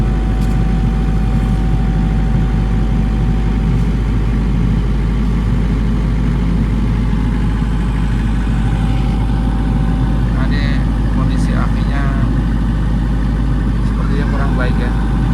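A Denyo 30 kVA diesel generator engine runs steadily at about 1300 rpm with a deep, constant low drone; a person talks over it throughout.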